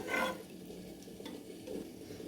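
Water being stirred in a pot for ghee rice gives a soft, steady swishing and faint scraping, quiet and close with no voices.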